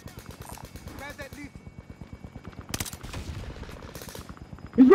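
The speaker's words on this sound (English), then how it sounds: "I'm getting shot." Rapid rhythmic video game gunfire rattles steadily throughout, with a burst of heavier shots midway, while players shout and talk over it.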